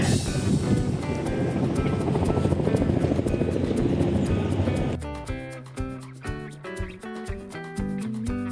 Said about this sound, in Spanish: Y ahí hay un helicóptero